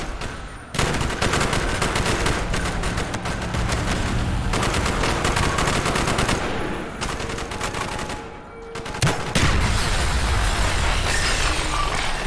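Dense, loud covering gunfire in Call of Duty: Black Ops on Xbox 360: continuous overlapping automatic rifle bursts and rapid shots in a street battle, barely pausing for a moment before resuming at full intensity.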